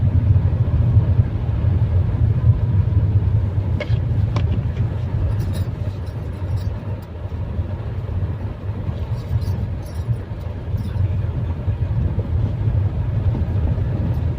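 A car drives through heavy rain in foggy, cold weather, with a steady low engine and road rumble continuing throughout, close and fairly loud, with faint ticking above it.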